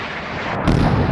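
Naval guns firing at incoming missiles during a Sea Power naval battle, a loud sustained burst of heavy gunfire with booming low rumble that swells near the end, with no talk.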